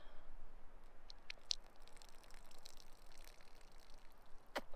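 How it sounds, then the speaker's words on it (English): Water is squeezed out of a soft backpacking filter bag, a faint dribbling trickle with scattered small drips, quiet and close with nothing else around. "Push the water out just so I'm not carrying that extra bit of water."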